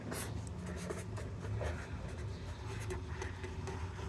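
A pen writes a maths equation by hand on paper, a continuous close scratching that runs for a few seconds with no talking.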